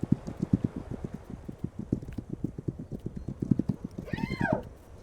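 A horse in the video game This Land Is My Land clops along in a quick, even rhythm of hoofbeats, then lets out a short rising-and-falling neigh near the end, close and fairly clear.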